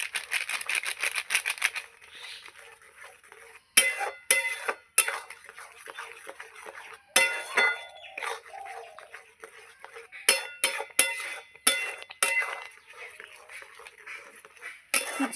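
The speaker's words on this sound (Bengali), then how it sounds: "আমি এইভাবে দেবো আর নাড়বো।" Condensed milk goes into simmering payesh while a spoon stirs, making repeated sharp clinks and scrapes against the pot, with bursts and pauses throughout and faint talk at times.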